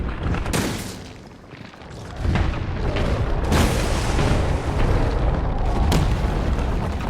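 Heavy weapon blasts from a railgun in the Resident Evil 3 Remake, several booming discharges with sharp attacks around a loud, dense game mix of explosions and combat noise.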